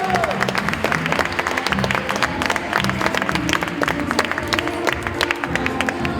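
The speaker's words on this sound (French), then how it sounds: "On les applaudit chaleureusement" An audience applauds four boxing athletes at a Quebec Games Olympic boxing medal ceremony, sustained dense clapping from a crowd at moderate distance, steady across the whole stretch with a faint murmur beneath.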